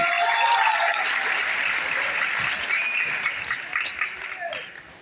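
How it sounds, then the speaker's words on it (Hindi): Crowd applause at a meetup with a teacher in Prayagraj, dense and loud throughout with cheering voices mixed in, thinning slightly toward the end. "तालियां होनी चाहिए भाई।"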